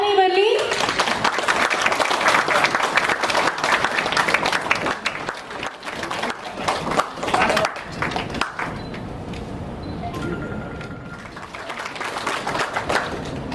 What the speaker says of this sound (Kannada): ನಿಮ್ಮೆಲ್ಲರೂ ಜೋರಾದ ಚಪ್ಪಾಳೆ ಬರಲಿ